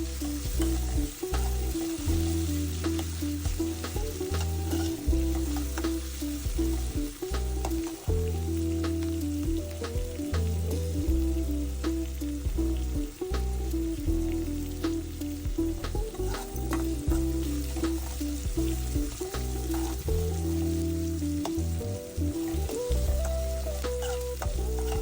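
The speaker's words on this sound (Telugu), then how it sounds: "పప్పు బాగా దూరగా వేయించుకోండి" Dal frying in a pan gives a steady, close sizzle with stirring scrapes throughout, over a constant background hum, and no talk.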